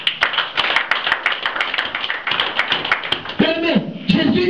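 A church congregation claps and cheers during a sermon, with sharp repeated claps in a loose rhythm under constant voices, then a preacher's amplified voice rises near the end.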